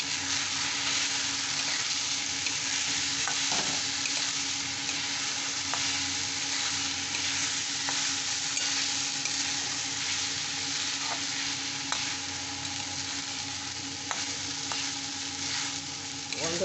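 Ingredients fry in a pan for ripe mango khichuri, holding a long, steady sizzle throughout. Occasional faint clicks of stirring rise above it, and no one speaks.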